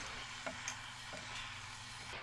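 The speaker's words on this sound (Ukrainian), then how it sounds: "Усе це ретельно перемішуємо." Chopped liver is stirred with dried ground Mediterranean herbs and sweet paprika in a multicooker on its frying program, a steady sizzle under a few soft spoon scrapes and clicks, close and continuous, with no talking.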